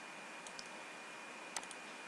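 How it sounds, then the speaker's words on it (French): A single computer keyboard key is pressed during video editing, a crisp click near the middle of an otherwise steady background hiss, with a couple of fainter taps just before it. "vous allez cliquer sur votre clavier, cette fois-ci R"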